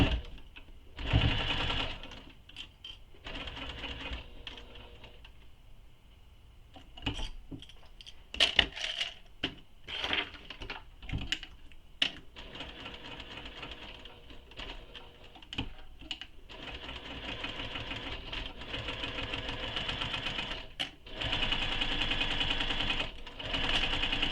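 A sewing machine stitching a quiver sling, bursts of rapid mechanical whirring separated by pauses and small clicks as the fabric is repositioned, close and steady.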